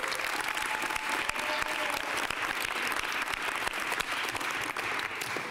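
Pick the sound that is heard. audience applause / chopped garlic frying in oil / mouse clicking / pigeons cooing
audience applause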